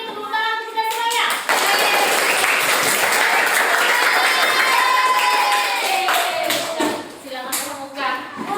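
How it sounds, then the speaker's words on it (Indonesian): An audience applauding at an indoor gathering, a loud sustained burst of clapping that swells and then thins out, with voices mixed in. "Tepuk tangan untuk kita semuanya."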